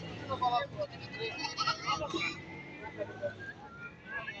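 Sheep bleat amid the bustle of a livestock market in Barda, Azerbaijan, several short overlapping cries at moderate distance under steady chatter and crowd noise.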